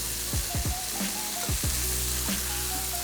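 Mushrooms hit a buttered pan and sizzle loudly and continuously, with several quick clattering drops as they land, close up and with no talk.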